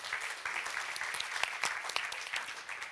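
Applause from an audience at an awards show for prize-winning advertising campaigns, a dense patter of many hands clapping, steady and moderately distant for about three seconds, with no one talking over it.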